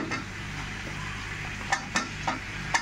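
Onions sizzle in a hot pan while a spoon stirs them, a steady frying hiss broken by several clear scraping and clinking knocks against the pan.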